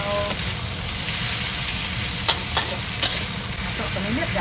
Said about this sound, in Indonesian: Udah wangi, jadi kita gorengkan sayurnya.